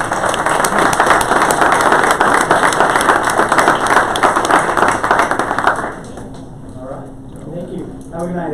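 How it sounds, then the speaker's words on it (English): Audience applause for a panel at the close of an event, a dense, loud wash of clapping for several seconds that thins out and fades near the end. "round of applause for our panel"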